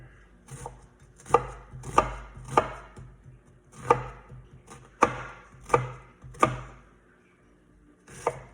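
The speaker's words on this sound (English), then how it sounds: "I'm gonna cut these a little bit bigger since they'll be in there a little longer" A knife chops onion, carrot and celery into mirepoix on a cutting board, with a steady series of crisp, close thuds roughly a second apart and no talk.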